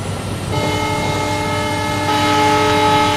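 Kalka Mail superfast express train in the Railworks Train Simulator game, a steady rolling rumble with a sustained, loud horn that sounds from about half a second in and holds to the end.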